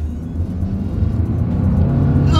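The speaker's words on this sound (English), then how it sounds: "let's see how quickly we can get this one here up to speed" A 2024 Subaru Impreza accelerates up to speed, its engine note a steady low rumble that holds loud and constant throughout, with no talking.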